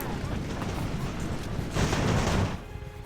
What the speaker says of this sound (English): I can see that our artillery started to fire